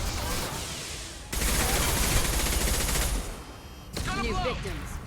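Rapid bursts of video game gunfire, dense automatic volleys in loud stretches broken by brief pauses, with shouting voices and chirpy effects mixed in.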